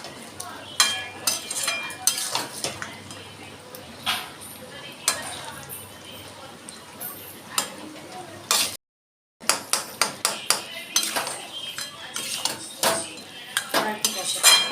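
Mutton curry being sautéed in a pot Bihari style, with a metal spoon repeatedly scraping and clinking against the pot in irregular, fairly close taps, a brief lid-off pause midway, and a voice talking faintly at times.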